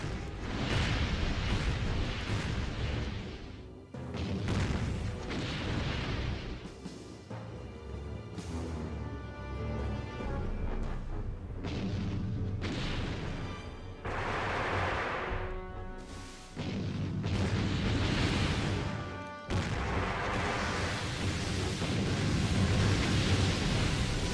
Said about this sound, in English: Some light gunfire.